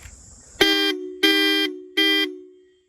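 Aftermarket Roots horns fitted to a car give three loud, bright honks, each lasting about a third of a second, with short gaps between them and a ringing tail after the last one.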